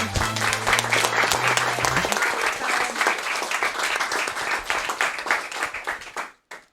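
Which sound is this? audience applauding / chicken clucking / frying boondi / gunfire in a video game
audience applauding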